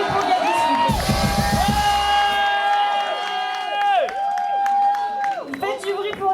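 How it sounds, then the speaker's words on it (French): Festival crowd cheers, whoops and claps loudly for a drummer named Gabi, with a dense burst of noise early on, then sustained shouting and whistles under an announcer's amplified voice. "Faites du bruit pour Gabi."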